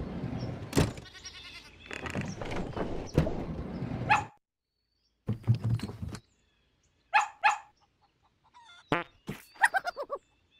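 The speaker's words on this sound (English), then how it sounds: "Dog." A dog barks several times in short bursts in a cartoon video game, first amid busy background noise, then in separate sharp yaps after a brief silence.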